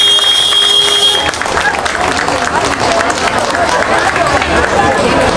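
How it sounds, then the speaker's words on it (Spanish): An audience at a school arts performance breaks into loud, sustained applause, a dense roar of clapping that keeps going without pause. "Los recibimos con un fuerte aplauso."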